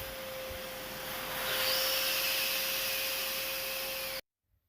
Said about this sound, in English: The suction of the vacuum will pull the string through